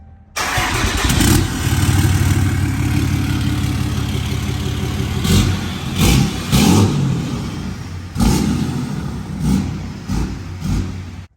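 A deep diesel engine of a fourth-generation Cummins truck with a mailbox exhaust tip starts up and rumbles loudly, then revs several times in short surges, each throaty burst rising and falling back to idle.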